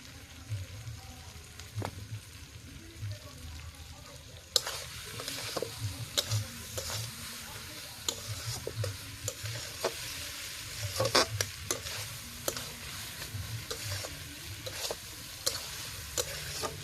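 Meat sautéed and stirred in a pan over a fire outdoors in a garden, with continuous frying sizzle and frequent sharp scraping and tapping of the spatula, a low rumble underneath, no voices.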